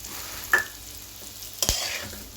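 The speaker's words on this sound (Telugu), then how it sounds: "సో ఇలా తాలింపు పెట్టేసుకొని కొద్దిగా వేగాలి." Sesame seeds and a tempering of spices frying in hot oil for a Telugu atukulu (flattened rice) snack, with a soft continuous hiss, two brief sharp crackles and a stir against the pan, close and fairly quiet.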